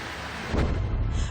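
Heavy rain and low rumbling thunder during a severe thunderstorm in the Philippines, a broad steady roar with a stronger swell partway through, loud and continuous.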